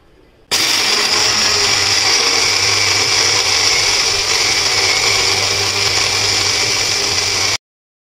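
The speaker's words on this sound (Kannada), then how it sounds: "ಅದನ್ನೆಲ್ಲದನ್ನು ಹಾಕ್ಕೊಂಡು ನಾನು ಇದನ್ನು ಮಿಕ್ಸಿ ಮಾಡ್ಕೊಳ್ತೀನಿ" An electric mixer grinder runs on roasted gram, peanuts, cardamom, black and white sesame and poppy seeds, starting abruptly into a loud, steady whirring grind that holds for about seven seconds and then cuts off sharply.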